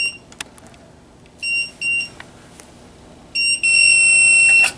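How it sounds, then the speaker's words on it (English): A mug press machine for sublimating ceramic candleholders sounds several short electronic beeps, then a longer sustained beep at the end, clear and piercing against a quiet room. "Machine will beep."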